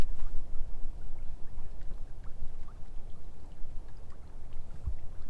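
Gentle water rushing and lapping along the hull of an O'Day 28 sailboat under light wind, a continuous soft wash with small splashes, close by and without talk.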